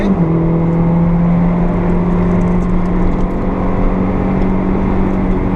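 Honda Civic ED7 accelerating hard on a race circuit at Fontenay-le-Comte, a loud steady engine drone with a rising whine heard from inside, continuous and close with no pauses.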